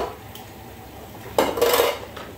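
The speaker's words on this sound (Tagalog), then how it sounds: "nag-ugas ako ng plato" Plates and cutlery clatter while dishes are washed, with quiet background at first and then a louder burst of clinking and scraping near the end.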